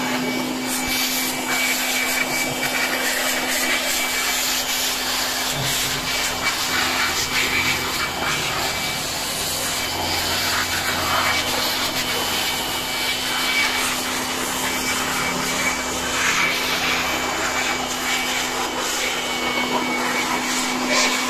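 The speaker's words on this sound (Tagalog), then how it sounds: "Ikutan na natin to ng blower, saka after natin blower, pupunasan natin." A blower runs steadily and loudly throughout, drying a Yamaha Mio Amore scooter during a full detailing job, with a constant whining hum over a broad rushing airflow and no talk.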